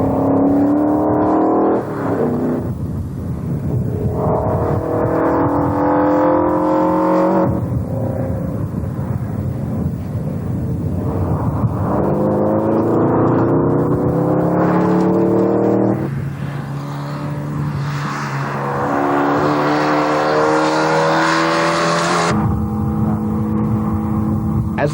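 Morgan sports cars racing on a track that is drying out, with engines revving hard and shifting through gears as cars pass one after another, loud and close, the pitch rising and dropping with each gearchange.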